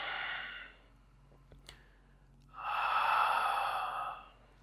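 Deep, audible breaths during a power yoga pose: a loud exhale, a quiet pause with a small catch of breath, then a long, strong breath out, close and alone.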